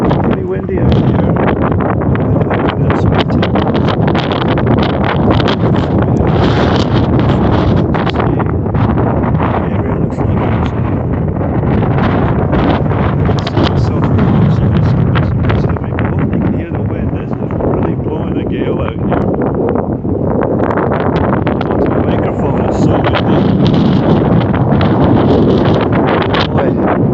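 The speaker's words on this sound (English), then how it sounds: "This is windy, isn't it?" Strong wind buffets the microphone outdoors on a windy day in Calgary, a loud, constant roaring rumble with gusty surges, and a person talks intermittently beneath it.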